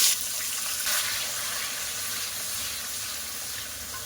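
Chopped tomato hits hot oil in a pan already seasoned with cardamom, bay leaf and curry leaves, setting off a bright, loud, crackling sizzle that spikes at first and then settles into a steady hiss.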